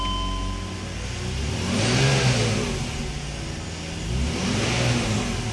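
A 2005 BMW engine fires after its EWS key programming. It then revs in two rising and falling swells, close and fairly loud, with no talking over it.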